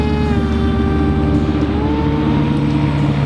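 An RC plane's electric motor whines loudly and steadily as it skims across water, a close, sustained tonal buzz whose pitch drifts slightly, with no talk over it.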